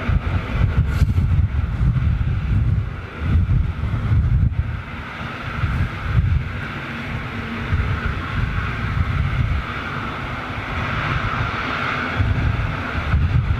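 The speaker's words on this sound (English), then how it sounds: "Bit of a crosswind." Gusting crosswind roars across a microphone at an airport, loud low rumbling buffets rising and falling with a faint distant jet hum beneath and no voices.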